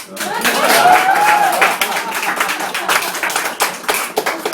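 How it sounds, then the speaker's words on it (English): Audience at a performance breaking into loud, close clapping that swells quickly and then thins into scattered claps, with a voice calling out faintly above it near the start. "what you should clap here"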